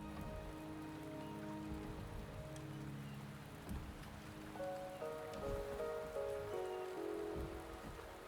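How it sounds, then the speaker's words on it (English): Rain falling in the game Wuthering Waves, a soft, steady patter on surfaces under a quiet musical backdrop of sustained tones, faint and even throughout. "The rain is subsiding."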